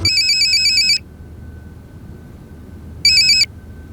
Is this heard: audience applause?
no